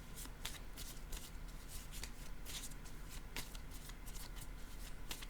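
Playing cards being shuffled and laid down in a quiet room, a series of soft, crisp riffling bursts and flicks repeating irregularly, faint and close.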